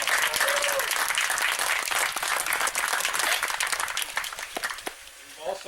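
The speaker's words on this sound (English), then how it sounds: "Let's get them a big round of applause" Loud, dense applause from a crowd at an outdoor community fishing event with donated food, sustained claps that thin toward the end with faint voices underneath.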